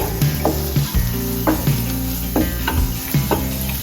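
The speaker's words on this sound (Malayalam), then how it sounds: "ഒന്ന് ഇളക്കി കൊടുക്കണേ." Vegetables with chicken masala are stirred in a sizzling pan for egg Maggi masala: a steady fry hiss runs throughout, with scraping stirring strokes roughly every second, close and fairly loud, no voices.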